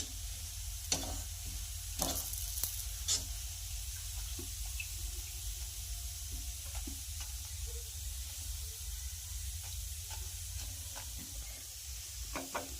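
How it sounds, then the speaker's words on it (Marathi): Shankarpali, crisp flour snacks, fry in hot oil with a faint, steady sizzling hiss and occasional soft clicks, heard at a distance with no talking. "तर अशाच पद्धतीने आपण बाकीची सुद्धा शंकरपाळी फ्राय करून घेणार आहोत"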